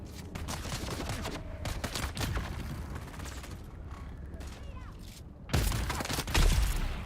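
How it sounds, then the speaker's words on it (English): Gunfire in the Dune: Awakening video game aimed at the player from behind: dense rapid bursts of shots with mechanical clacks and creaks throughout, a brief lull, then a louder close burst near the end. "Somebody is shooting me from behind."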